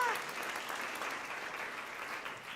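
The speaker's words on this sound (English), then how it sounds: "if you would please stand and receive your applause" A conference audience applauds honorees standing for recognition, sustained even clapping from a sizable crowd that stays steady and slightly fades at the end.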